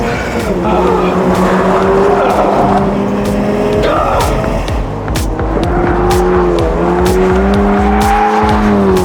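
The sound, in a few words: Toyota GR86 oversteering sideways with tires squealing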